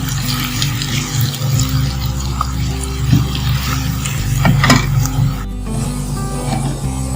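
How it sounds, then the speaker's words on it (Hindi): Onions sizzle in a pan over a medium flame as they cook to light brown for an arvi gosht curry, a steady close frying hiss with a low hum and occasional utensil clinks. "प्याज को हम लाइट ब्राउन करेंगे।"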